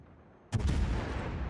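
A heavy naval gun salvo firing armor-piercing shells at the cruiser Salem in World of Warships booms out suddenly after a quiet moment, followed by a sustained rumbling roar and thick low-end reverberation.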